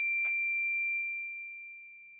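A steady high-pitched electronic tone holds continuously and slowly fades, with a soft brief tap near the start.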